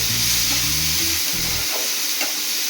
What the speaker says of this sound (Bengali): আমি পেঁয়াজ দিলাম